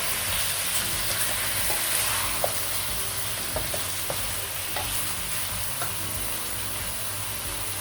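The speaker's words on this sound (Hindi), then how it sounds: "जब तक इसका रंग नहीं बदलता हम इसको भूनेंगे।" Chicken pieces fry and sizzle steadily in a pan with garlic and ginger paste, with occasional stirring clinks and scrapes over a constant loud hiss; no voices.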